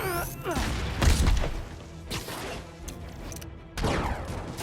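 Gunfire in Marvel's Spider-Man rattles in rapid bursts and heavy impacts, loud at first then thinning out, with a final burst near the end over a busy game soundscape, no talk.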